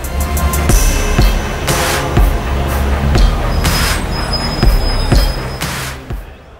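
A train runs along the rails, its wheels squealing over a steady rolling roar with regular clicks from the track joints, loud and close, fading slightly at the end.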